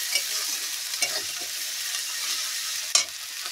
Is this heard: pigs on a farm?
no